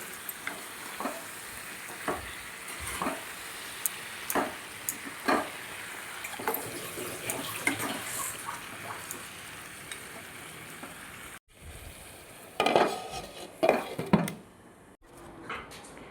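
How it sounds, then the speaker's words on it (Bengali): Mutton curry stirred in a pot over the heat, a low steady frying hiss broken by sharp clinks and scrapes of a spoon against metal, with a louder clatter of handling near the end. "এবার একটু নেড়ে চেড়ে ঢাকা দিয়ে দেবো।"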